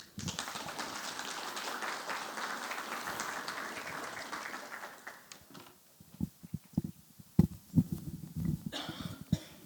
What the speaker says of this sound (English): a round of applause for Provost Reed